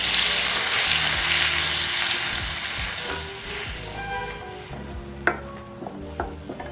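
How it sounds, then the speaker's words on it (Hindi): Onion, ginger and garlic paste frying in oil for a parwal curry: a broad hiss of sizzling that slowly fades, followed by scattered clinks and scrapes of a utensil against the pan near the end. "इसको डाल देते हैं ऑयल में और इसे अच्छे से भून लेंगे"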